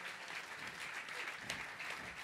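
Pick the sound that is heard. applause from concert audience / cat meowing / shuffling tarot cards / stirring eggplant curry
applause from concert audience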